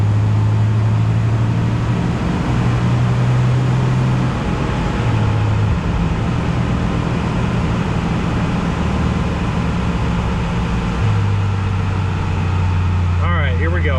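A Jeep Wrangler 4.0 engine with a bolt-on catback exhaust idles steadily while still warm, a loud constant low drone with slight shifts in pitch, and a voice talks over it.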